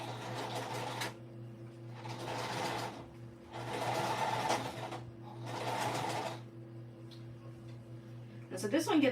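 Sewing machine stitching through a thick seam on a shoulder bag, running in four steady bursts with short pauses between them, plus a faint hum and a brief clatter at the end.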